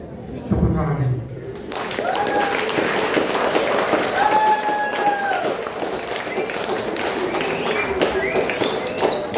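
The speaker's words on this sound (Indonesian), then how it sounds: "Tepuk tangan." Applause from a crowd at a school flag ceremony for Youth Pledge Day, a dense sustained patter of many clapping hands that starts after a short voice and carries on under tones and voices in the background.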